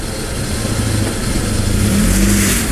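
A car engine revs hard and steady as the vehicle pulls free from slipping on a poor surface with four-wheel drive engaged, loud and close, rising slightly toward the end with no talk.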